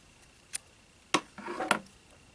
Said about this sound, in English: I can just cut it free.